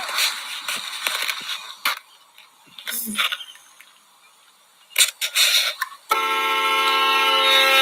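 Some clattering and rustling noises, then a loud, sustained, tonal horn blast kicks in near the end and keeps going.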